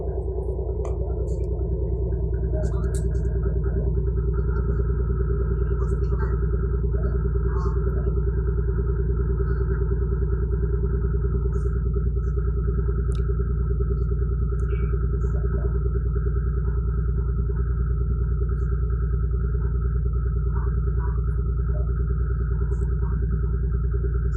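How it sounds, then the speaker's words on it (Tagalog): Steady low engine rumble aboard a ferry, loud and continuous with a constant drone, while occasional faint voices and small knocks sit on top. "Yan po tunog ng barko mga kapilipi"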